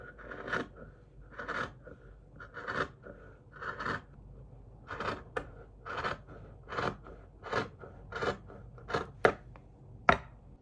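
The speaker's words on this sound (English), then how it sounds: "Now I'm gonna cut out 2 corset patterns basically, and then I'm gonna sew them together" Scissors snipping through fabric to cut out corset pattern pieces, a series of about a dozen crisp, close cuts in a regular rhythm, each a short crunching snip with quiet gaps between, no voices.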